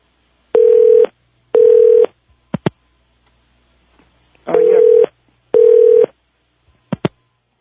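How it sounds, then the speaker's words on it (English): A telephone number is dialed and the line rings: two long ring tones, a pair of short clicks, then two more long rings with clicks, loud and clear with no talk. "Call this number for me, will you? Just call it."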